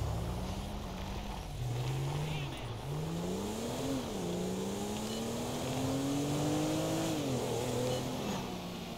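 Game car engine from Grand Theft Auto 5, a Ford Explorer-type police SUV, holding a steady drone that rises and dips in pitch as it accelerates and shifts, with faint talk under the sound.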